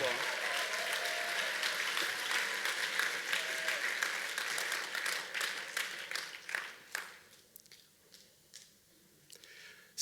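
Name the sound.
applause for the Lord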